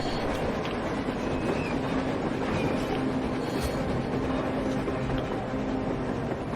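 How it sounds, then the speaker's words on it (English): A train in the video game Metro Exodus rumbles steadily past on the surface with a continuous heavy roar and faint rhythmic clatter, loud and close throughout, no voices. "A train! A damn train on the surface!"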